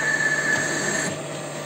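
A drill bit bites into a hardened steel axle shaft held in a lathe, giving a steady high metallic whine over a grinding rasp that eases slightly near the end.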